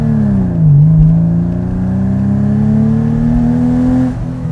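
A car engine, original and unmodified apart from the silencer manifold, revs up and then holds a steadily rising pitch. The sound is close and loud, with a strong harmonic growl, and it drops off at the very end.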